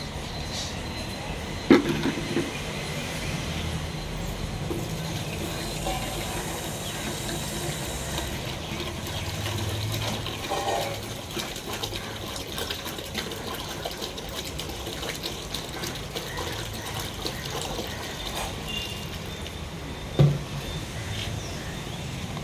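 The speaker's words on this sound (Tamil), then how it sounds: "இப்போ இதில் 5 லிட்டர் தண்ணியை பிடிக்கிறேன்" Tap water filling a bucket with five litres, a continuous gushing, splashing stream heard steadily throughout, fairly close and moderate in level, with a couple of brief knocks.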